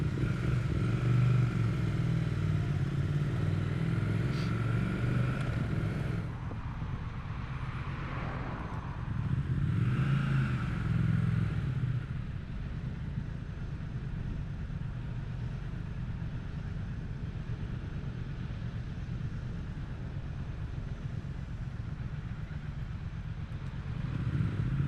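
A Triumph Speed Twin motorcycle rides through town with a moderate engine hum and wind noise, swelling briefly as it passes traffic and then settling into a steady, fairly quiet cruise.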